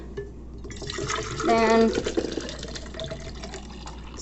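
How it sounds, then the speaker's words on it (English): Water poured from a Walla bottle into a glass, a short rising gurgle of filling liquid near the mic, with a person talking around it. "I'm going to pour myself some water"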